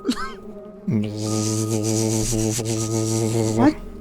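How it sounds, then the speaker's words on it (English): A loud fly buzzing sound effect played during a tabletop game session, a close, sustained droning hum that swells in and holds steadily for about three seconds after a short rising whine. "you hear a very loud buzzing noise, like that of a fly"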